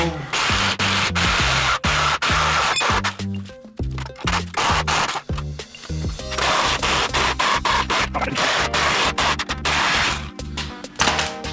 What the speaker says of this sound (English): I need a new sawzall. This one's not working well.